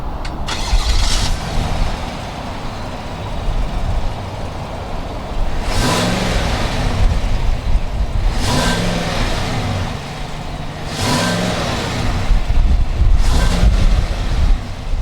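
The 6.2-litre V8 engine of a 2019 GMC Sierra Denali pickup cranks and fires, then idles roughly while being revved several times in repeated surges, loud and close.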